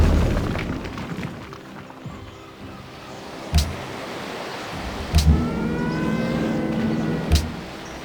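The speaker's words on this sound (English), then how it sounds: "I'm gonna have to nuke them too." Deep booms from a nuclear strike in the strategy game Civilization V, three heavy blasts spaced a couple of seconds apart over a steady rumbling bed of game noise.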